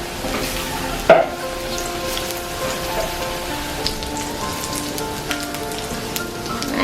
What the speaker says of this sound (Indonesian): Jadi kita goreng tempenya itu setengah matang aja